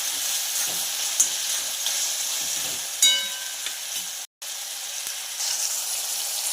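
A mixture of onion and tomato fries in a pan, making a steady, close sizzle with faint stirring scrapes and one very brief dropout.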